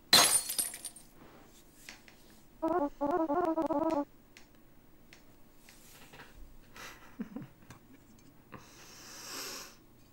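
A glass bottle shatters in the game Bad Parenting, with a sharp crash at the start followed by scattered clinks, a short burst of tonal game sound and quieter rustling.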